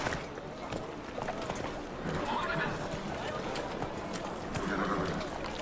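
Hooves clip-clop at a quick, even gallop from a horse in the video game The Witcher 3, with someone talking over the running hoofbeats.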